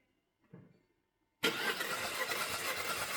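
A Citroen C4 with a cylinder misfire fault cranks after a second of faint rustling, then catches and runs with a loud, steady, rough engine roar close by.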